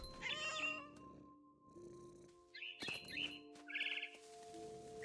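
A cat meows in the video game What Remains of Edith Finch, several bright, wavering calls over a steady musical drone, with game sound effects between them.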